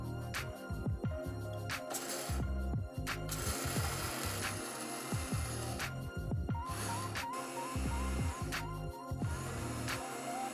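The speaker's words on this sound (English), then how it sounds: "We put the dried seeds into a grinder." A grinder grinding dried seeds whirs and rattles continuously with clattering, ratcheting mechanical noise, close up, with brief pauses in the motor's drone.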